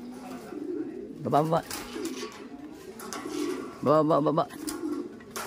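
Racing pigeons in a loft coo in two short bursts, mixed with a handler's steady close talk and calling throughout.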